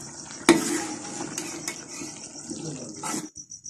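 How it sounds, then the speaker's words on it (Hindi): A spoon stirring potato, cauliflower and peas into masala in a pan, with a sharp clank at the start, then scraping and soft sizzling for about three seconds before stopping. "सब्जी को मिक्स कर लूंगी।"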